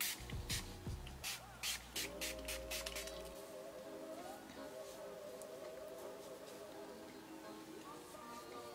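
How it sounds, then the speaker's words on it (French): Texturizing hair spray hisses out of a can in several quick, close bursts over the first few seconds. A steady faint hum continues afterward. "je vais mettre un petit peu de spray texturisant pour que ça donne un petit peu plus de volume"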